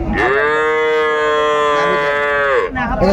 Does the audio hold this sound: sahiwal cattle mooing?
yes